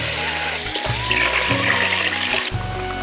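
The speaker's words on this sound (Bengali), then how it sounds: "এবার জল দিয়ে দেব।" Water pours steadily into a cooking pot of mrigal fish curry with pumpkin greens, a continuous close splashing gush lasting about three seconds with no talking.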